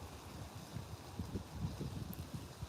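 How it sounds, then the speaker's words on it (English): Gusty wind blows across an outdoor microphone, giving a low, rumbling buffeting at moderate level with no speech. "It's too windy."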